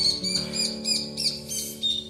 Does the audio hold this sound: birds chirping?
yes